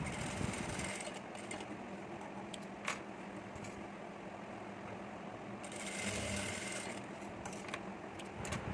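A sewing machine stitches a blouse border, a continuous fast mechanical whir with ticking bursts, close and fairly quiet, with no voices.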